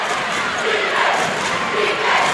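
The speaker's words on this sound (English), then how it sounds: "T-Town crowd into it now." A high school basketball crowd at an IHSA Class 2A quarterfinal between Benton and Teutopolis roars steadily in a gym, a broad continuous wash of cheering voices swelling slightly toward the end.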